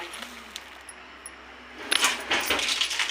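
Mustard seeds dropped into hot oil for a spicy chutney burst into a sudden dense crackle and splutter after a quiet stretch of low sizzle, continuing close up to the end.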